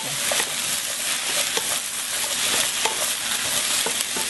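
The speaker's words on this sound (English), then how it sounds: "I'm going to keep stirring until this potato looks a little like a half translucent" Onion, zucchini and potato frying for vegan black bean noodles, with a dense, loud sizzle crackling throughout and light stirring clicks and scrapes scattered over it, close and continuous.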